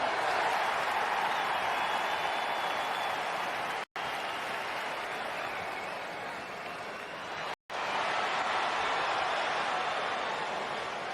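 Roaring crowd noise from a wrestling arena in the video game WWE 2K20, a steady, loud wash of cheering and clapping broken by two brief dropouts.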